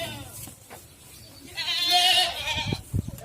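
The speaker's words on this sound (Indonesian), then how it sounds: "Di sini ada ternak kambing atau apa itu namanya?" Goats on a village livestock farm in Aceh Tengah give one clear, wavering bleat in the middle, with quieter farm background and faint scattered sounds around it.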